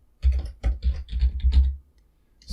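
Crisp clicking of keys on a computer keyboard, typed in several quick bursts with short pauses between them, close and clear, ending in a brief scratch.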